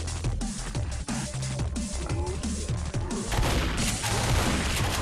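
In Left 4 Dead, dense gunfire and crashing impacts pile up in quick succession throughout, loud and close, with only brief voice fragments under the din.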